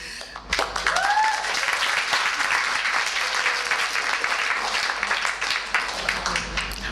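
Audience applause fills a hall at an anniversary celebration in Cape Town, South Africa, a dense, steady wash of clapping that holds loud and even throughout, with a faint voice briefly audible near the start.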